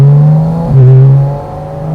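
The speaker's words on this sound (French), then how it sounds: "C'est tellement le vrai son Porsche, c'est un truc de ouf. T'as l'impression qu'on est dans un 993 turbo, quoi." An air-cooled-sounding Porsche engine revs up briefly, a loud close drone rising once in pitch and then settling back to a steady hum, with no voices.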